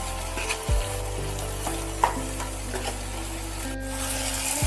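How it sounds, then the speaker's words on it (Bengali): Eggplant sizzles and fries in oil in a pan, a steady close sizzle with small stirring scrapes and a brief louder crackle, no talking. "অল্প করে ভেজে নিয়ে বেগুন একটু তুলে রেখে দেব।"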